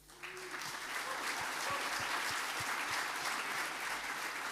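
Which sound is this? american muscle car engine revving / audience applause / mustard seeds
audience applause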